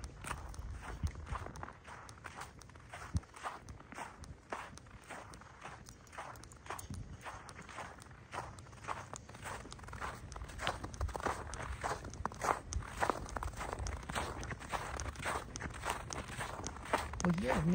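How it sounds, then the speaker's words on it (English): Footsteps crunching on snow in a park at night: a steady walking rhythm of soft, close crunches, faint and unhurried, gradually a little louder, with no talking over it. "It makes noise from stepping. As I take a step, it packs the snow down."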